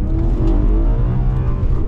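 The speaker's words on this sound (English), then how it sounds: "there will be a car running up and down the runway" A fast car runs along an airfield runway, its engine a loud, steady droning roar that holds close and strong for a couple of seconds with no voices over it.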